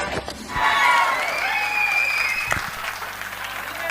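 An audience claps steadily at an event, a dense, even wash of applause that swells near the start and carries on. A sustained tonal sound, like a voice or music, runs over the clapping.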